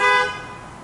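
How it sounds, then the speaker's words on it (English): A single car horn honk, loud and close, a bright sustained toot that fades out within a second. "maybe you can give me a honk on the horn to let me know you're here"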